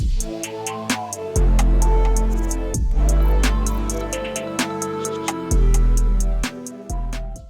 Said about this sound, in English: The full arrangement without the vocals, with just the melody and the drums and the 808 sound like this.